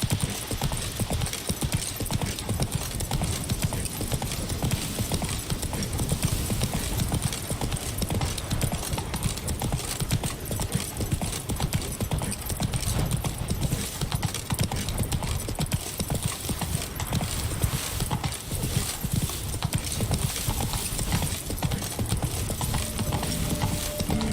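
Horse hooves gallop steadily in The Witcher 3 (Blood and Wine), a dense, continuous clip-clop rhythm that carries close and loud throughout, with game music and ambience underneath.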